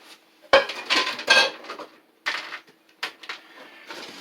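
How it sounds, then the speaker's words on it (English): A spoon stirring vegetable lo mein in a pan, with bright metallic clinks and scrapes arriving in several short, close bursts separated by brief pauses. "take your spoon, mix it well"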